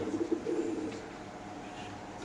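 Racer pigeons at a pigeon farm give a few soft, low coos at close range in a quiet setting, with no one speaking.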